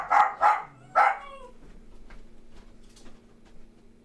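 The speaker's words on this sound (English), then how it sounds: "It's the little tiny puppy from next door that they don't watch." A small puppy barks three times in quick, sharp, close yaps, followed by faint quieter sounds.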